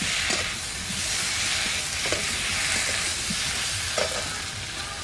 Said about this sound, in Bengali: এবার ভেজে রাখা ওলটা দিয়ে দিচ্ছি।